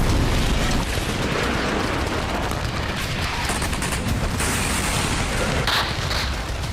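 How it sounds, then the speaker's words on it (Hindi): Bombardment and gunfire in residential refugee camp areas of Gaza: dense, continuous rumbling blasts and crackling shots, loud and distorted, layered into a constant roar. "जबालिया कैंप, शाती रिफ्यूजी कैंप और शुजाया कैंप के रिहायशी इलाकों पर बमबारी की जा रही है"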